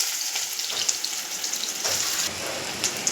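Onions hit hot oil and fry with a steady, bright sizzle, crackling continuously from start to end with small pops, close and with no voices.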